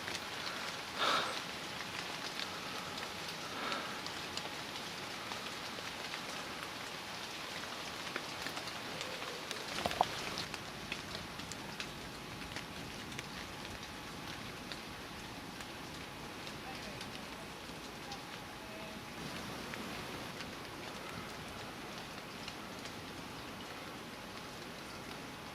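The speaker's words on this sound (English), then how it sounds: "Ooh, that sounds even as if it's even heavier, that rain." Heavy rain falls steadily on the large leaves of a countryside tree, a continuous soft hiss with scattered drips and patters that swells slightly louder partway through.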